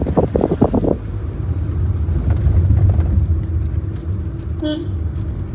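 A manual car drives along a hilly road with a steady engine rumble and road noise, the engine note shifting as the gears are changed down for a bend; a brief voice is heard at the start.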